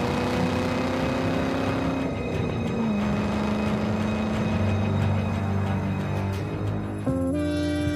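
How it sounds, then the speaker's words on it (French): A Ford Mustang Shelby GT500 convertible, 2013 model, engine droning loud and steady, with a pitch shift partway through as the revs change, and no voices. "Voici la Mustang Shelby GT500 cabriolet, la superpuissance à la sauce américaine."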